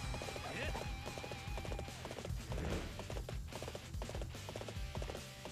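Rapid rhythmic hoofbeats of a galloping horse in Dynasty Warriors 8 with clattering, layered over game music and ambient effects, steady and fairly close throughout.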